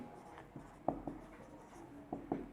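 Marker or chalk scratching on a board during a maths lesson, a few short, sparse strokes and taps, close and quiet over a faint room background, with no talking.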